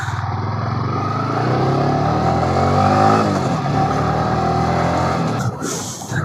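A motorcycle ridden along a road, its engine droning loud and steady with wind rush throughout and a slight dip near the end.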